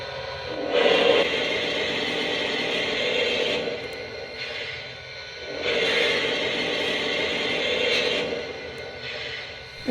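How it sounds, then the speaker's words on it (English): Recorded cylinder steam effect from a Lionel Camelback steam locomotive model sounds as broad hissing chuffs, close and fairly loud. Long steady bursts alternate with shorter puffs in a repeating pattern, with no voices. "Here's the cylinder steam sound."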